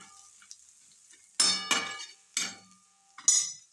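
Spoon stirring turmeric, salt and garam masala into a homemade chutney in a pan, giving four separate scraping, clinking strokes with faint sizzling between them, close up and with no talking.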